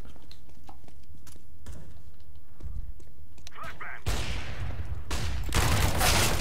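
Gunfire in the video game Counter-Strike: Global Offensive, heavy bursts of loud shots near the end following quieter scattered clicks and rumbles, with someone talking over parts of the action.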